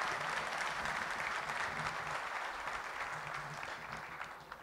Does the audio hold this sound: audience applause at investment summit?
yes